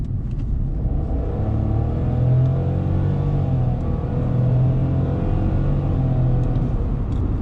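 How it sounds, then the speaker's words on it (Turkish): A Dacia Sandero Prestige 1.0 turbo with X-Tronic CVT accelerates under steady load, its engine a loud, continuous droning rumble heard from inside the cabin, with a low tone that rises and dips as simulated shift points pass. "Yani şanzıman CVT ama vites atma efekti koymuşlar arkadaşlar. Yani devir sona geldiği zaman tak bir düşürüyor devam ediyor."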